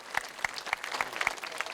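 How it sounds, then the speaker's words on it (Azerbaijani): An audience claps at a local event in Ismayilli, a short burst of brisk, lively applause from a small crowd with sharp, evenly spaced claps nearby. "Məmnuniyyətlə alqışlayaq."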